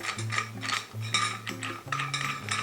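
An adapter piece is screwed by hand onto a Blichmann chilling coil fitted on a fermenter. The result is a close run of ratcheting mechanical clicks and whirring turns in several short bursts, with no talking.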